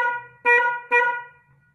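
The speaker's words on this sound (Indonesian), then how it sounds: "Sama saya pijit dulu ya klaksonnya." A car horn, being fixed because it sounds off and lacks its stereo tone, gives two short loud honks during a test, about half a second apart. Each honk has a strong harmonic tone, and a faint low hum runs between and after them.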